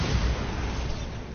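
A Bombarda spell blast from the video game Hogwarts Legacy, a low booming explosion that rumbles on without a break for about a second and a half.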